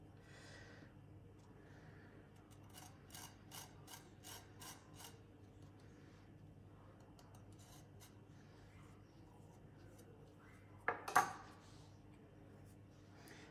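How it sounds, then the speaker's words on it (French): Truffle is grated over a bowl of mascarpone in a quiet kitchen, producing a run of faint rhythmic rasping strokes, then a brief louder scrape near the end. "je vais râper de la truffe"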